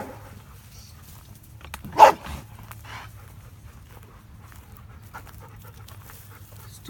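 Dogs pant faintly in a soft continuous rhythm nearby, broken by a single short louder bark or huff early on, with nothing else prominent around them.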